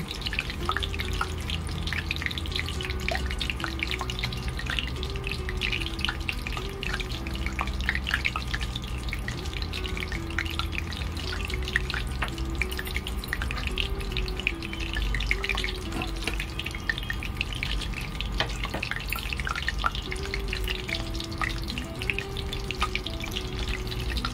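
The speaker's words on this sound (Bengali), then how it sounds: "তেল গরম হয়ে গেছে, আমি প্রথমে একটা ছোট্ট দিয়ে দেখি যে এটা কতটা গরম হয়েছে।" Bengali bora dumplings fry in hot oil, a steady close sizzle with scattered crackles and pops running throughout, with no voices.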